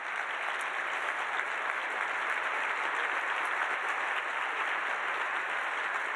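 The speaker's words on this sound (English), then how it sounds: "give us a little round of applause for them" An audience applauds a nonprofit's board and staff at a 2019 fundraising event, dense continuous clapping at an even, loud level throughout.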